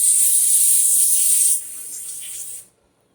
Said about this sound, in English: Really just aiming to get all the orifices, anything that passes fuel through it, spraying.